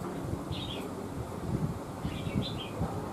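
Red-whiskered bulbul (chào mào) of the lân colour type giving short bright chirping calls, two or three brief phrases over a steady background hiss with low rumble.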